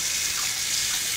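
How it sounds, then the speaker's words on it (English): A hot water tap runs steadily over a knife blade at a kitchen sink while crackle top brownies are being cut, a continuous close, loud hiss of flowing water with no talking. "you're gonna run it under hot water between every single cut"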